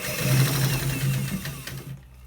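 A sewing machine runs steadily while stitching a shirt collar, a close, continuous mechanical whirr with a fast stitching rattle that stops abruptly near the end.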